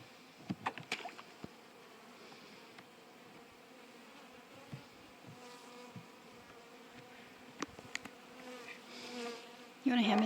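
Honey bees hum around an opened spring beehive, a steady close buzz with individual insects droning past the listener and a few louder passing bursts.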